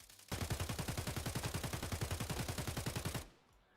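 Standard unmodified AK-74M fired full-auto in Escape from Tarkov: a loud, steady burst of about 25 rapid rounds lasting roughly three seconds, then a quick cut to near silence.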